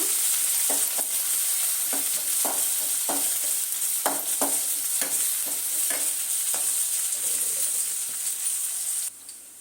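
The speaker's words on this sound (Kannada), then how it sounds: "ಈರುಳ್ಳಿ ಚೆನ್ನಾಗಿ ಫ್ರೈ ಮಾಡ್ಕೊಳ್ಳೋಣ" Onions frying in a pan for a vegetable broken-rice upma, a steady close sizzle broken by about a dozen rhythmic scraping strokes of a spatula, ending abruptly.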